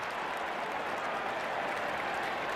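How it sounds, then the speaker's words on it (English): A crowd applauds at a 2014 Northwestern at Minnesota college football game as Minnesota's players clap after a penalty flag, making a steady, dense wash of clapping that carries evenly and somewhat distantly throughout. "Minnesota's players are applauding."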